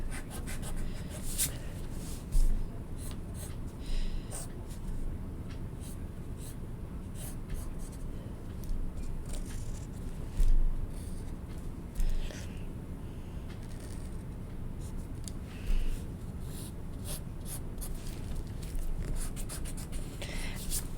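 Pencil or pen scratching across paper while a turtle is drawn step by step, soft rubbing strokes in short bursts under an occasional speaking voice.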